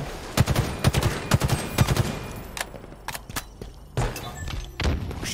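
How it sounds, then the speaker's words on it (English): Video game gunfire: rapid three-round bursts crack out repeatedly and loud in the first two seconds, then scattered heavier shots and thumps follow at irregular intervals. "Nothing satisfies like a three-round burst."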